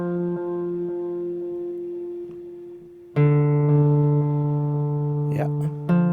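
An analog delay in a custom GUPTech guitar pedal, set with more feedback, repeats a sustained guitar tone. A louder new note enters midway and decays through its echoes, with brief bursts of noise near the end.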